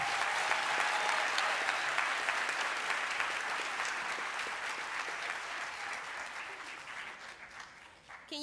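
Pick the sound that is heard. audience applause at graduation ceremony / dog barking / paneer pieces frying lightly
audience applause at graduation ceremony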